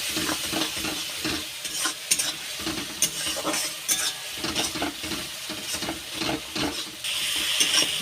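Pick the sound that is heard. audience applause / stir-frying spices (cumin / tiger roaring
stir-frying spices (cumin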